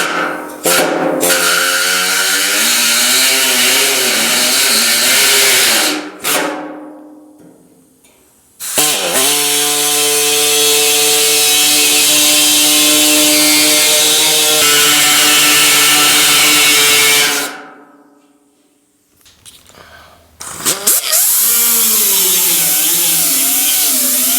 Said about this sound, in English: we'll probably just take the reciprocating saw and just lay it on here and trim that out